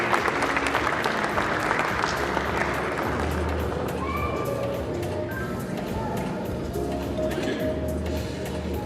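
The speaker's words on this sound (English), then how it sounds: "So I think we can give a round of applause" An audience at a university sports colours and awards ceremony claps for an award recipient, a dense burst of applause that fades slightly over several seconds.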